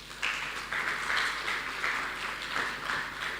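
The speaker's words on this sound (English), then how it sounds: "So I would like you to clap for yourselves" A conference audience at a small-scale mining dialogue held at a natural resources university claps for itself, giving moderate, even applause that continues throughout without speech.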